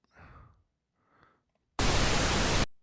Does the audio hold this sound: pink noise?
yes